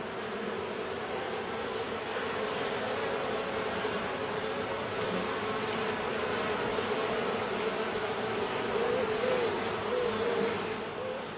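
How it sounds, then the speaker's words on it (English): Honeybees inside a hive give off a steady, dense buzzing drone that holds evenly at a constant level throughout, with no voices. "Bees communicate with each other by means of a dance language."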